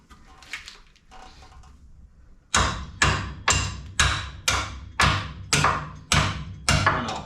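Repeated hammer blows on metal parts of a 1953 Chevy 3100 truck fitted with a junkyard 5.3 LS engine, nine sharp, evenly spaced loud strikes, preceded by brief quieter handling noises.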